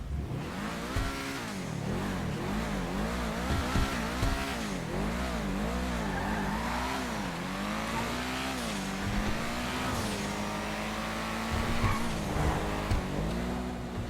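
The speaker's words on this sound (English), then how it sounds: "I'm going to turn up my game volume so you can hear just how good the engine sounds on this vehicle." The Ocelot Lynx car engine in GTA Online revs and accelerates through the gears, its pitch climbing and dropping repeatedly, loud and close throughout, with brief tire squeals.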